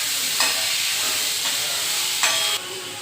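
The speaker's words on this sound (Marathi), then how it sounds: "आता मग त्यांच्यात टोमॅटो टाकायचं. ते पण चांगला भाजून घ्यायचं." Tomatoes fry in a pan for a prawn curry with a loud, continuous hiss and sizzle that flares in brief bursts, then drops slightly toward the end.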